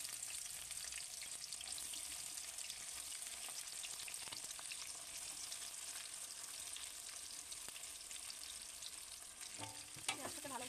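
Chopped onions go into hot oil already holding whole spices like cardamom and clove, raising a steady, soft hiss of frying that continues evenly with a faint clatter near the end, no voices.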